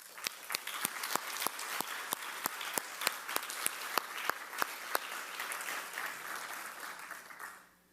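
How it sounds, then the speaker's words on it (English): An awards-ceremony audience keeps applauding after a dance performance, a steady wash of clapping with several loud, evenly spaced claps from someone close by, tapering off at the end. "Let's keep the applause going for the uplifting and inspiring dance performance by Parul Shah."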